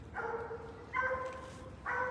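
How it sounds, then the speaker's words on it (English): A young raccoon-hunting dog gives three short, high-pitched, squalling barks at an even rhythm, fairly close and clear with no talk over them. "This dog's still got a little like squall high pitch to her because she's so young."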